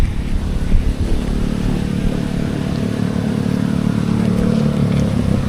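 A motorcycle engine drones steadily and loudly nearby on a road project site, a constant low rumble with no clear revving, without talk.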